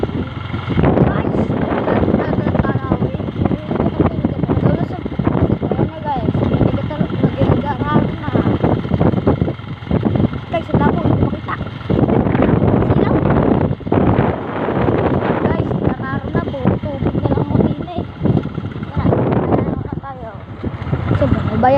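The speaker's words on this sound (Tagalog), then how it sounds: "ang lakas man ng hangin dito eh." Strong wind roars and buffets the microphone continuously, with people talking intermittently underneath the gusting noise.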